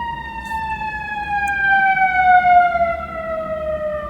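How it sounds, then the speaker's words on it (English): A loud emergency siren wails steadily with a slowly falling tone, close by, over low traffic rumble, continuing without a break. "Sorry for those loud ass sirens"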